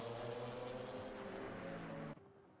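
GT4 race cars lapping Kyalami in the sim racing game Assetto Corsa Competizione, a droning multi-tone engine whine holding steady then cutting off abruptly near the end, moderately loud with no talk.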